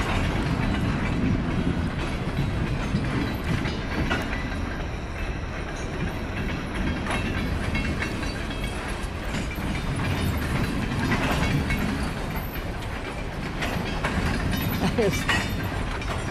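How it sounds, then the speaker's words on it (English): A long train rumbles along the rails nearby, wheels clicking and clacking steadily without a break, a loud continuous roar throughout. "long train."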